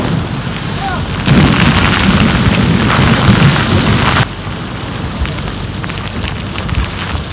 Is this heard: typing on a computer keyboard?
no